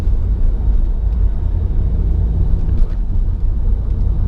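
A car drives north up 6th Avenue in New York City, heard from inside as a loud, steady low engine and road rumble with no talking.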